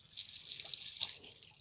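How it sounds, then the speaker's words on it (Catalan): Water runs from the old Font dels Castanyers fountain, a close, steady hiss of flowing water that eases off near the end, with no voices. "Aquesta és la font antiga, que rejava sempre, de la Font dels Castanyers"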